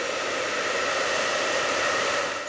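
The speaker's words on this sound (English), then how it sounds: "to dry it now with the hairdryer, because when the pen goes on it needs to be dry" A hairdryer blows over a watercolour painting, giving a steady, close whooshing hiss of motor and airflow for a couple of seconds, alone and without speech.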